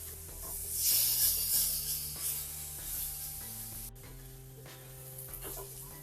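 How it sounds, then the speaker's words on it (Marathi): Food grills on a low flame with little oil, giving a soft steady sizzle and hiss close by, with faint clinks now and then and no talking. "आता आपण ग्रिल करत आहोत"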